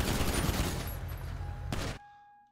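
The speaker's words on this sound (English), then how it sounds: "we're taking shots!" Rapid gunfire in a GTA roleplay game crackles loudly as a dense, continuous burst for about two seconds, then cuts off abruptly, leaving faint tones that fade out.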